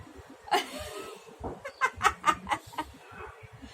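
A goose honks several times in quick succession, loud and close, with a few softer calls trailing off over background noise.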